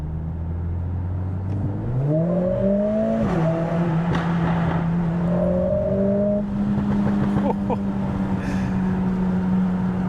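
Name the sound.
modified Mercedes CLA45 S loud exhaust popping in a tunnel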